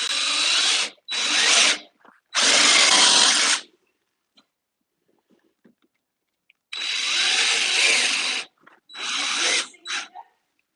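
Power drill running in a garage in several bursts, each a few seconds long, with a quiet gap in the middle before more drilling resumes, close and loud.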